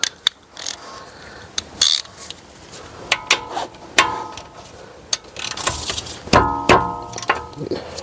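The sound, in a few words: ratchet undoing caliper carrier bolts on Mercedes E220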